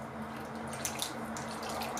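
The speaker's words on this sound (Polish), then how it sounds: "wlewam teraz naszą wodę z kiszonych ogórków." Pickled cucumber brine pours into a cooking pot of meat-roll sauce, making a soft, steady trickle and splash with a few brief drips, quiet and close, with no talking.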